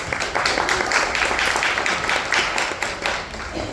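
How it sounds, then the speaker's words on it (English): An audience at a community changemakers panel event applauds the panelists, a steady, moderately loud patter of many hands clapping throughout. "one more big round of applause for panelists"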